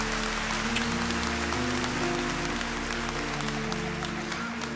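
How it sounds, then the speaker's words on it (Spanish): Audience applause for Juli Weitz at an orchestral film-music concert in the Teatro Colón, a steady broad wash of clapping over sustained low instrumental tones, continuous and fairly distant throughout. "un fuerte aplauso para Juli Weitz"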